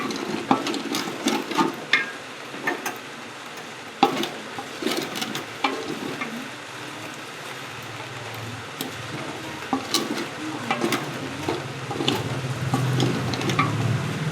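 Khichuri with ginger paste and a splash of water is stirred and fried in a pot, with a steady soft sizzle under repeated scraping and clinking of a spoon against the pot, close up and without talk.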